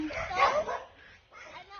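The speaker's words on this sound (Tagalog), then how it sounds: "may mga aso" A dog gives a short yelping bark followed by a softer second yip, fairly close, with nothing else going on.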